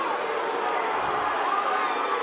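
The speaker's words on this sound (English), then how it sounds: "The crowd raining down boos." A large arena crowd at an MMA title fight sends up a continuous, dense wash of booing and jeering through the final minute, with no breaks and no single voice standing out.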